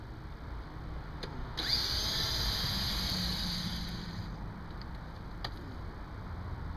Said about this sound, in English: I'm using my Makita screw gun.